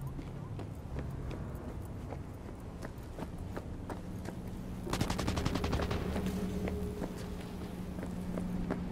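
Rapid gunfire in the video game Cyberpunk 2077 crackles steadily in the background, bursting into a dense volley partway through, while a voice talks over it.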